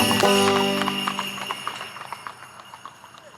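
Hooves of a horse on an Amish farm clop in a quick, steady rhythm, sharp and close at first, then fading as the animal moves away, with a brief whinny-like tone near the start.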